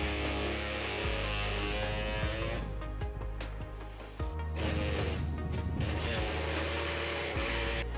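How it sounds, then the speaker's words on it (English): A handheld air saw cuts through a car's metal heat shield under a 2018 Nissan Versa, a steady buzzing drone with a few brief pauses and restarts, close and fairly quiet, no talking. "I will be trimming this with an air saw today"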